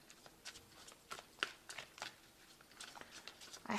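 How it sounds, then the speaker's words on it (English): Tarot deck being shuffled by hand, a run of soft papery riffles and slides in irregular bursts, close and quiet with no talking. "I have shuffled this deck."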